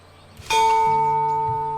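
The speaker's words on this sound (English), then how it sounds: "Please leave all deliveries in the gatehouse. Okay, and ring the bell." In the video game Botany Manor, a bell at the gatehouse is struck once after a short quiet lead-in, ringing out with a bright clang that sustains and slowly fades.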